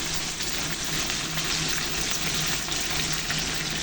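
Fish frying in two pans, a steady, close, continuous sizzle and crackle of hot oil with no voices over it.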